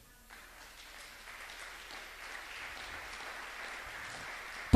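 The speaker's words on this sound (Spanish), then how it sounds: "Dale un aplauso a Dios en esta mañana." A church congregation claps at a Sunday morning service, the applause swelling from quiet to a sustained, moderate patter of many hands heard from a distance.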